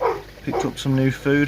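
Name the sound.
dog barking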